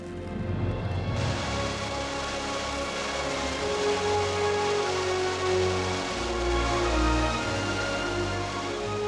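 A continuous, powerful roar of rushing water fills the clip, deep and steady, heard close by at Montmorency Falls, Canada, where the water drops 83 meters.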